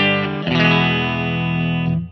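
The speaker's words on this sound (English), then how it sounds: "The clean sound from the bridge pickup is like this." An electric guitar chord rings from the bridge pickup through the clean channel of a Laney L50H amplifier. It is struck once, sustains bright and full, and then fades, with a short lower note just before it. No voices are heard.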